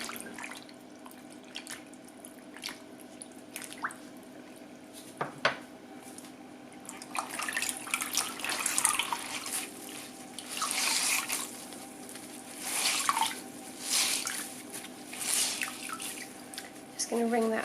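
Avocado-dyed fabric is plunged into a bowl of fresh water, giving a soft slosh followed by a series of faint drips and watery splashes over a quiet room background, with no talk.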